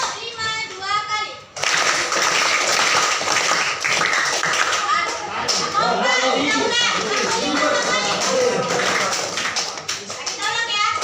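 Children clap in unison, a burst of claps at the start followed by a loud, busy stretch of rhythmic clapping mixed with kids' chatter and shouting, with a teacher-like voice leading throughout.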